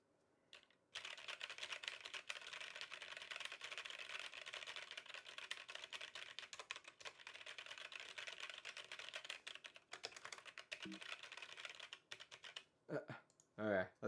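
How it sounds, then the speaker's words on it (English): Steady, dense keystrokes on a CFTKB Discipline 65% mechanical keyboard kit during a typing test, slightly rattly and close, running continuously for about twelve seconds before trailing off into brief noises. "Okay, let's do an actual typing test."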